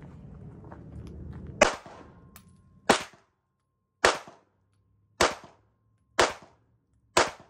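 Five sharp, loud Canik 9mm pistol shots ring out at a steady pace of roughly one per second, each followed by a short decay, with low rumbling handling noise before the first shot.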